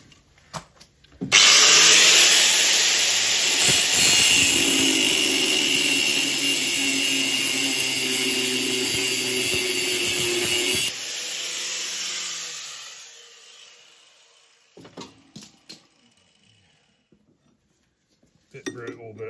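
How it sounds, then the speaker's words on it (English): A power tool, likely an angle grinder, cuts off a seized nut on a Mk2 Hillman Sceptre, a loud close whine lasting about ten seconds, then tapering off with clinks and rattles of metal afterward. "and then just cut the nut off"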